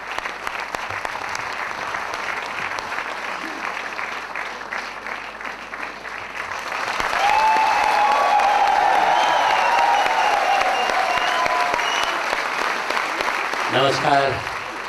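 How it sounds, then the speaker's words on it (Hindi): Loud, sustained applause from a seated audience at an International Customs Day event honouring customs department staff, swelling midway and continuing steadily, with a voice speaking over the hall beforehand. "मैं चाहूँगा हमारे कस्टम डिपार्टमेंट के तमाम साथियों के लिए एक बार जोरदार तालियां"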